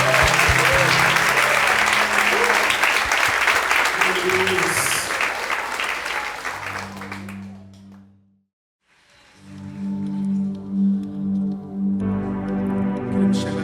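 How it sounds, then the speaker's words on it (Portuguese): Dense congregational applause in a church at a Christmas service, loud and sustained for several seconds, then fading to near silence before voices and music resume. "Dê uma salva de palmas para Jesus"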